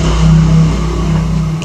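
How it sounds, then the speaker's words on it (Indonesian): A motor vehicle's loud exhaust revs close by in a village, a steady throaty roar that swells and holds for under two seconds with no talking. "Suara knalpot begitu memang udah biasa"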